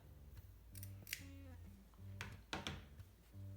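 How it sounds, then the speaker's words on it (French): Scissors snipping small triangular notches through two layers of fabric for a sewing project, a few quick crisp cuts, faint and close, set against a soft background hum. "Maintenant, je vais cranter. Donc je vais couper des petits triangles comme ça"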